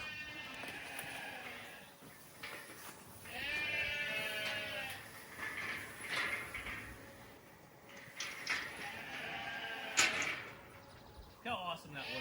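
Ram goats bleating repeatedly at close range, wavering cries coming in several bursts, with people talking and some metallic clanking in between.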